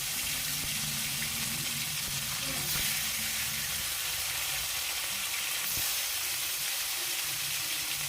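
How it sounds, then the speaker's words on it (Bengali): Pieces of rui fish frying in mustard oil in a kadai, a steady close hissing sizzle throughout with faint stirring clinks and occasional crackles. "তেল ভালো করে গরম করে এখন আমরা মাছগুলো ভেজে নেব।"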